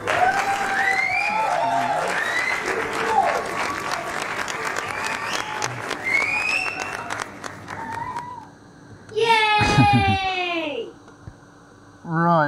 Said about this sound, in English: I think we should give AD a big round of applause, and he should give himself a round of applause.